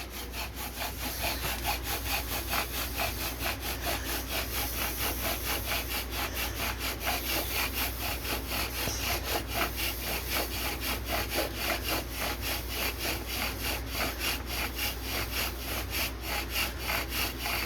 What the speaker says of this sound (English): That sounds really good.